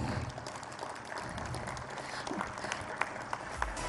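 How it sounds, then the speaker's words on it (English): Guests at a business excellence awards ceremony give a round of applause, a soft, somewhat distant patter of many hands with a few sharper claps near the end. "Ladies and gentlemen, a huge round of applause."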